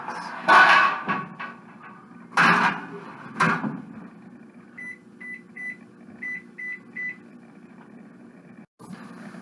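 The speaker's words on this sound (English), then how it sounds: "these are ready to go into the oven for about 15 minutes." Quesadillas going into a kitchen oven: a few loud clunks of tray and door, then a quick series of short electronic beeps as the oven is set, over a low hum.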